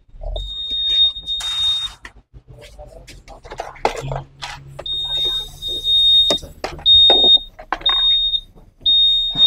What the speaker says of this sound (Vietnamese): Chiếc xe này đang báo động, mình sẽ làm cho các bạn xem luôn